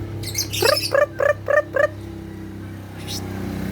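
Several short, sharp bird squawks repeat in a quick run, with a faint chirp after, over a steady low background hum.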